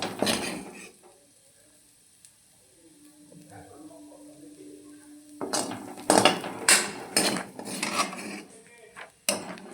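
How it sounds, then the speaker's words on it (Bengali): Fried cauliflower and potato being scooped out of a pan with a ladle in a home kitchen, giving a quiet clatter of scraping and metal-on-pan scooping, then louder bursts of knocks and scrapes near the end. "এবার আমি নামিয়ে দিচ্ছি হাতা দিয়ে দিয়ে নামাচ্ছি"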